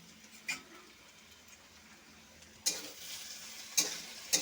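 Taro and small kachki fish fry in a pan for a village-style chorchori, a faint steady sizzle with a few sharp clinks and scrapes from stirring scattered through it.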